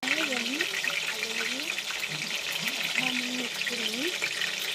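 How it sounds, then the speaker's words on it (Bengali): Small whole potatoes dropped into hot oil: a steady, dense sizzle and hiss throughout, with a voice talking over it. "এবার আলু কটা ছেড়ে দেবো, কটা আলু ভেজে নেব।"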